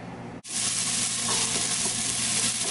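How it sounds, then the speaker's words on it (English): Onions and garlic sauté in olive oil in a large pot, with a sudden steady frying hiss that starts after a brief near-silent moment and carries on loud and close, with no talking. "So we are sauteing the onions and garlic together"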